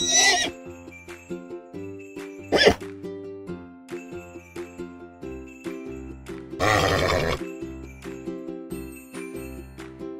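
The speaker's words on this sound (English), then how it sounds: "Horse." A brief whinny-like cry rises over a steady, tinkling musical backing, heard twice and then again louder.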